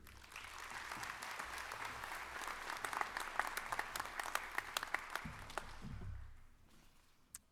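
An audience at a university autumn commencement claps warmly for several seconds in a dense, even burst of applause that fades out toward the end, with a low voice rising as the clapping dies away.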